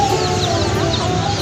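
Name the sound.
colourful chicks chirping at a market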